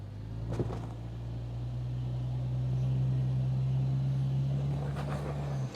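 A Jeep XJ's engine revs hard and holds a rising, sustained drone while it strains to climb out of a stuck spot off-road, with a brief bump near the start and the pitch climbing and then easing near the end.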